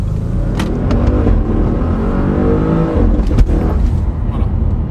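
A 700-horsepower Audi RS6 ABT pulls away from a stop in first gear, its engine note rising steadily as it accelerates, loud and close, with a couple of sharp pops from the exhaust.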